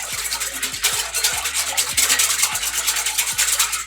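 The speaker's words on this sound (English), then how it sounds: "You're going to add your yeast. Give that a quick stir." Quick, steady stirring of yeast into a bread starter mixture in a bowl, a rhythmic scraping and swishing that repeats about every half second, close and fairly loud with no talk.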